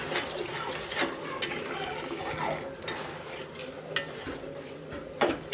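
A spoon stirs sugar in a pot to make syrup for a ber pickle, with soft continuous scraping and sloshing broken by sharp metallic clinks against the pot at irregular moments, close and quiet, with no talk.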